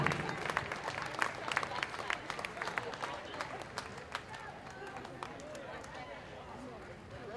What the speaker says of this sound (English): Give them a round of applause if you know who they are